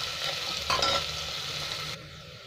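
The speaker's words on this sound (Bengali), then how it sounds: "2-3 মিনিট এখন ভাজতে থাকি এটা।" Finely chopped onions fry in a pan for a chicken curry, a soft steady sizzle with a brief stir-scrape midway, quiet and without talk.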